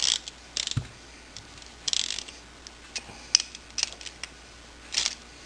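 A small hand wrench ratchets on Yamaha VMAX 1200 engine parts during assembly, seating bearings. Close, irregular metallic clicks and short ratcheting bursts are spread across a quiet workshop background, with no talk.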